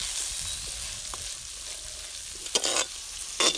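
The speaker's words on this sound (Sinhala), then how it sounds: "දැන් මේක හොඳට කලවම් කර ගන්නවා බැදීගෙන." Curry leaves fry in a pan with garlic for coconut sambol with dried fish, a steady close hiss of sizzling oil broken by a couple of brief scraping stirs near the end, no talk.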